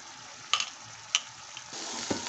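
Spices hit hot oil in a pan of okra curry, producing a steady close sizzle with a few sharp clinks from the spoon and a brighter burst of frying near the end.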